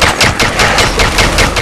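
Rapid automatic gunfire in a zombie-mode online shooter game: loud, close bursts of fast regular shots, about five per second, continuous through the clip with no talking.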